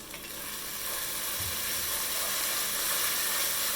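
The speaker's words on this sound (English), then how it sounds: "I'm going to stir that up. Grab a wooden spatula here." Ground ginger stirred with a wooden spatula in a hot pan for salt and pepper shrimp gives a steady, close, bright sizzle with a faint soft scrape partway through.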